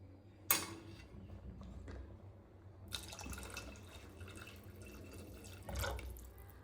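Water splashes and trickles into a cooking pot of dal khichdi in short bursts, with a louder pour near the end, over quiet kitchen background.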